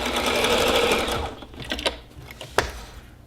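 Sewing machine finishing a straight seam across hot pad fabric hums steadily up close for just over a second before stopping, leaving scattered clicks and rustling of fabric being handled.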